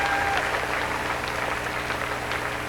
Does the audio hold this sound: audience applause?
yes